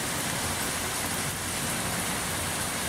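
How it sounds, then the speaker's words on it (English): Rain falls steadily on outdoor bottle gardens, a dense, even hiss of countless drops pattering on surfaces, continuous and fairly close with no voices. "what happens with the bottle gardens when it rains like this."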